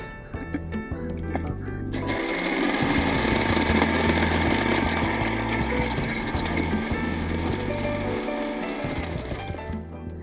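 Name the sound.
mixer grinder blending bread milkshake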